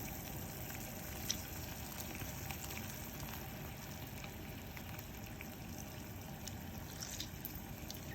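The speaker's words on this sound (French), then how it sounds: "Donc là, ça commence à bouillir." Homemade honey syrup of sugar and water coming to a boil in a pot on the stove, a steady soft bubbling and fizzing that runs continuously throughout, fairly quiet and close, with no voices.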